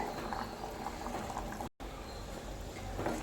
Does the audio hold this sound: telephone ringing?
no